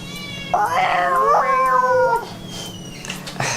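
A cat meows loudly at a door, giving one long drawn-out wavering cry and then a few fainter calls, with no talking over it.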